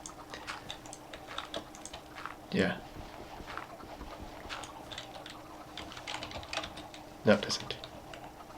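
A noisy computer keyboard clatters in quick irregular bursts, with two sharper louder clacks standing out, while a person speaks briefly over it.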